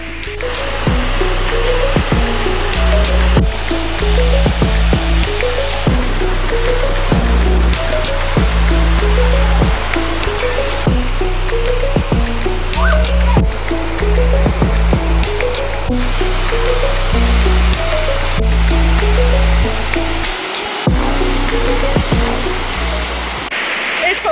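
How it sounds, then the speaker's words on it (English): Bash Bish Falls in southwestern Massachusetts roars up close, a constant, unbroken rush of crashing water that never lets up. "It feels like the waterfall is really loud"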